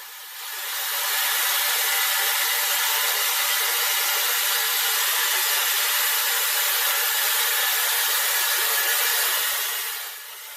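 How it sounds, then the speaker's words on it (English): A wet sandblast kit on a 3000 psi, 4 gallon-per-minute pressure washer strips rust and well-adhered paint down to bare metal, giving a loud, steady, continuous spray hiss that fades in and out over about ten seconds. "sandblast kit does a great job removing the rusty surface as well as the well-adhered paint right down to the bare metal"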